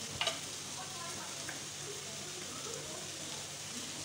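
Ground coriander and tikka masala fry in a pan with a soft, steady hiss, fairly faint and even throughout, with a couple of small clinks near the start.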